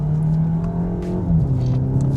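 A VW MK8 with anti-lag engaged for a rolling launch, its engine droning loud and close at steady high revs with a slight dip and rise in pitch.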